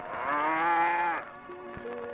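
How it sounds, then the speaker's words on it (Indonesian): A cow lows long across a wide grassland, a drawn-out, tonal moo that fades, followed by quieter background sound. "Suara lembu yang melenguh panjang di tengah padang yang luas"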